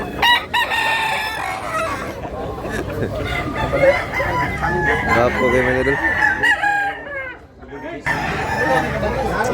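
Several roosters crow loudly and repeatedly, overlapping one another, while someone talks over them nearby.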